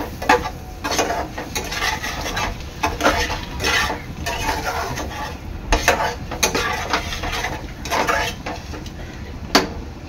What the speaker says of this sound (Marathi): दोन ते 3 मिनिटं चांगलं मसाल्यावर अंडा परतून घ्यायचं आहे।